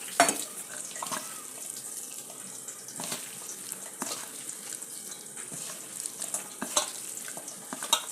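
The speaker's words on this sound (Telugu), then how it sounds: "ఇలాగే ఫ్రై చేసేస్తున్నాను" Soft sizzling and crackling of ivy gourd pakoras frying in oil, with scattered louder pops and stirring clatters throughout.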